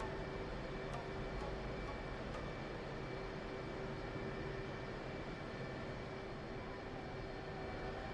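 Steady jet engine roar from a fighter at full afterburner in the DCS flight simulator, a constant broadband rush with a fixed whine that holds unchanged throughout, no talk over it.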